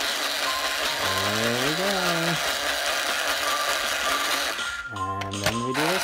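Power drill driving screws in a kids' design game, with two rising-and-falling whirring bursts about a second long each, loud and close over a steady hiss, while a person speaks briefly.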